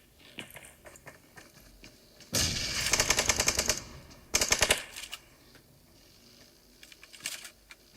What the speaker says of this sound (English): And they're now being fired upon by Modesta of Team 2.